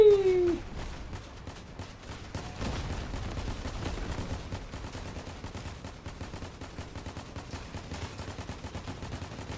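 Sustained video-game gunfire crackles for nearly ten seconds, a dense run of rapid shots close up with a brief whistle-like tone at the very start.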